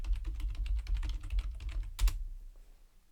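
Keys on a computer keyboard are tapped in a quick, uneven burst of close clicks, with one sharper press near the end before the typing falls silent.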